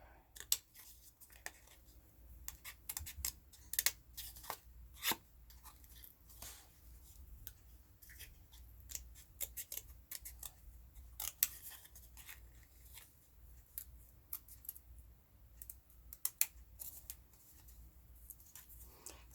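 Scissors snipping through junk mail paper to cut out a center, with many small close crisp snips and paper rustles at an uneven pace, quiet and with no talk.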